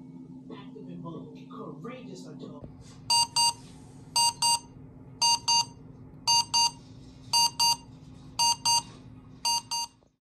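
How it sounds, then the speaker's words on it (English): A hotel room alarm going off at 6 a.m., sounding as a loud, steady series of paired electronic beeps repeating about once per second, preceded by a few seconds of murmuring room noise. "the alarm going off at 6 a.m. was certainly an unwelcome surprise, especially since I didn't set it"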